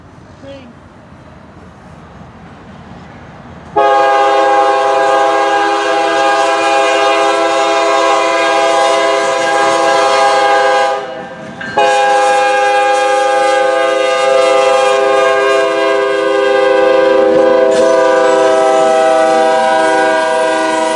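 An eastbound Norfolk Southern freight train sounds a loud, close horn in long blasts, with one short break and a cut near the end, over a low rumble of the passing train.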